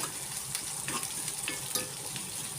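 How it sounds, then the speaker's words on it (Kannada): Green chillies fry quietly in oil, giving a soft, even sizzle with scattered small crackles throughout. "ಕರಿಬೇಕು, ಎಣ್ಣೆಯಲ್ಲಿ ಬಾಡಬೇಕು."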